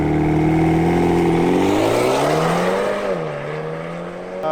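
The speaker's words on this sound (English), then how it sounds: "And then Remus Race exhaust." A BMW M135i with a Remus Race exhaust revs hard nearby, the engine note climbing to a held peak and then dropping back toward idle.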